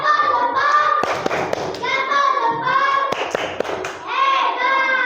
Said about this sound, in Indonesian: Tepuk jempol untuk kelompok 1.